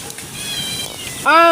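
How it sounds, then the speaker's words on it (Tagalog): A farm cat meows while waiting for food during a lunch of chicken adobo. A soft, drawn-out meow is followed by a louder, sharper meow at the end, close to the microphone over low background noise. "Abangers na guys ang 3 pusa."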